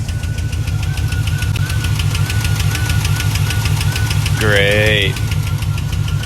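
A 2007 GMC Sierra 5.3 V8 with failed lifters idles close by with a rapid, steady ticking knock throughout. A voice speaks briefly over it near the middle.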